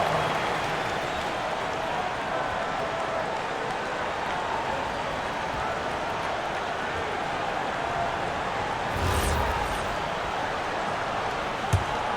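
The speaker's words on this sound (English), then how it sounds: "round of applause to your Lakers Tech Squad" Virtual arena crowd in NBA 2K26 applauding the Lakers Tech Squad, a steady wash of clapping and cheering that holds at an even level, with a brief swell and a thump near the end.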